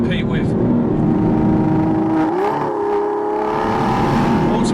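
A big Aston Martin V12 engine pulls hard under a steady, loud drone, its note climbing and shifting midway as it accelerates, with a person talking over the engine.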